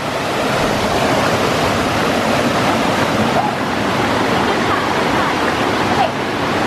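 Rushing water from a waterfall on a hike roars in a steady, loud, broadband wash close to the microphone, with some wind buffeting mixed in.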